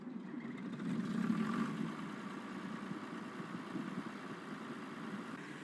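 A John Deere 6600 combine harvester in Farming Simulator 22 idles with a steady, moderately loud low engine hum. A slight swell occurs early on, then the rumble settles and holds evenly, with no talking.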